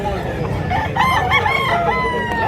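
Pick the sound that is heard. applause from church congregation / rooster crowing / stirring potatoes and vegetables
rooster crowing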